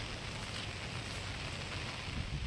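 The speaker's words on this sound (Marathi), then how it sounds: "खूप पाऊस चालू आहे" Heavy rain falls steadily over a village, a dense, continuous hiss with low rumble, close and unbroken throughout, with no voices.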